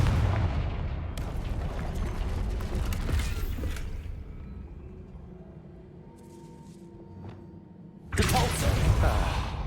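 A Confringo blasting spell goes off in the Hogwarts Legacy video game: a booming burst near the start, a quieter stretch with faint rumbles, then another loud crackling blast near the end.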